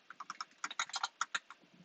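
Typing on a computer keyboard, a quick irregular run of about fifteen close crisp key clicks, soft and nearby, with no voice over it.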